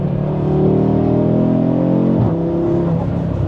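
Audi RS3 fitted with an upgraded intercooler pulling hard under acceleration, a loud rising engine note climbing through the revs, a brief dip like a gear change near the end, then climbing again, no talk.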